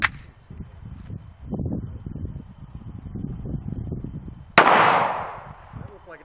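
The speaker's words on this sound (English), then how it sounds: "The last four rounds are gonna be the black tip, the armor penetrating rounds, against our AR500 Level III body armor." A shot from an FN Five-seveN MKII pistol firing 5.7x28mm black-tip armor-piercing rounds at AR500 Level III steel body armor: a single loud crack with a ringing decay after a stretch of quiet outdoor rumbling and muffled talk.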